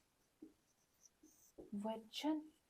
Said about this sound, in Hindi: यहां लिख रही हूं